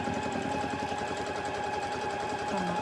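A sewing machine doing free motion quilting on a tumbling block pattern runs with a rapid, steady mechanical stitching rhythm, fairly close and continuous with no pauses.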